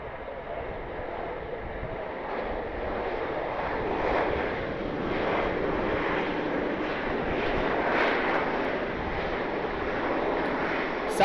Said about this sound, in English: Southwest Airlines 737 rolling out on 28 left.